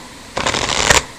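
A deck of guidance cards riffled once in a quick, close, papery flutter lasting under a second, alone against a faint room hush.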